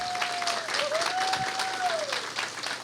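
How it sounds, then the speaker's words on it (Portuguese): Audience applause for Carol at a book launch evening, steady dense clapping throughout with a faint sustained tone gliding across it. "Um aplauso para a Carol aí, um aplauso."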